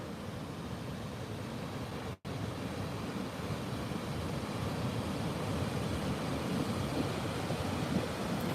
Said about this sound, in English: The water's really loud.